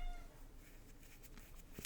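A pet cat meows for cuddles, soft and fairly close, with a couple of short cries against quiet room noise.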